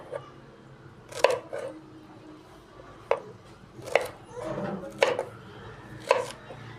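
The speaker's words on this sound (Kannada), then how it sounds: "ಬೆಂಡೆಕಾಯಿ ಫ್ರೈ ಮಾಡೋಕ್ಕೆ ಬೆಂಡೆಕಾಯಿ ತೊಗೊಂಡಿದ್ದೀನಿ ತೊಳ್ಕೊಂಡಿದ್ದೀನಿ ಇದನ್ನು ಈಗ ಕಟ್ ಮಾಡ್ಕೊಳ್ಳೋಣ" A knife chops washed okra (ladies finger) on a board for a fry, six or seven crisp, evenly spaced thuds, close and alone with no talking.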